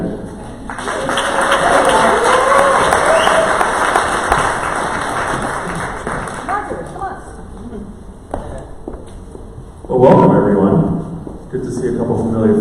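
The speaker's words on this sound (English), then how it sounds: "Give them a hand while they're getting up here." Audience applause and clapping fill a presentation hall, loud and steady for several seconds, then fade as a voice talks, with another short burst of clapping near the end.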